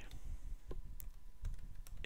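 Quiet typing on a computer keyboard, a quick irregular run of close key clicks over a low background rumble, with no speech.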